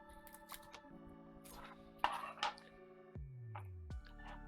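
A knife slices an onion in half on a kitchen board during prep for homemade baked ziti, with a few close, crisp cutting crunches and soft board taps, no talking.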